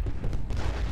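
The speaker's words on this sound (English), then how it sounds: "let's see if we can get shell fire in here" Artillery shell fire in the Ultimate General Gettysburg video game, a dense, rumbling boom that fills the whole second at close range and loud volume.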